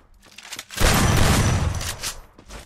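Gunfire in the video game Free Fire breaks out as a loud, dense burst of rapid shots. It lasts nearly two seconds after a brief quiet lead-in, then tails off.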